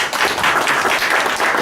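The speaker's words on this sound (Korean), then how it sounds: "박수 한번 쳐주십시오." A lecture-forum audience in Korea breaks into loud, steady applause, many hands clapping densely for a moment without pause.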